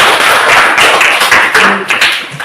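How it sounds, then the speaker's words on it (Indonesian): A classroom full of students clapping their hands together in a steady burst of applause, close and loud, with no talking over it. "Iya, tepuk tangan."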